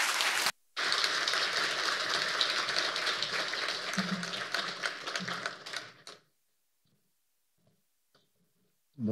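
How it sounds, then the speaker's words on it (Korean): A church congregation at an anniversary Sunday service applauds for about six seconds, a dense, even clatter of many hands that cuts off abruptly into near silence. "따뜻한 박수로 우리 환영해 주시면."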